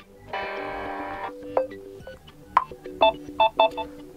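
Samsung Galaxy M22 ringtone previews play, starting with a long sustained electronic tone and followed by short, bright chiming melodic notes at moderate volume, with no talk over them.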